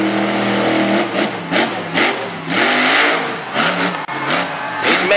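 A monster truck engine with a transmission problem roars at full throttle during a Monster Power 2017 event in Woodstock, Virginia. The loud, close revving rises and falls repeatedly with no talk over it.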